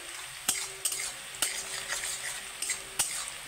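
Onions frying in oil in a village-style pan make a continuous soft sizzle, punctuated by sharp metallic knocks of a spatula against the pan roughly every half second to second.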